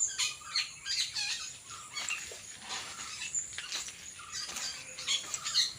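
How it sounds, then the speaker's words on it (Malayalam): Many birds chirp and twitter in the mango trees around a small house, giving quick scattered calls at moderate distance with no talking. "ഭയങ്കര കിളികളുടെ ബഹളമൊക്കെയാണ്."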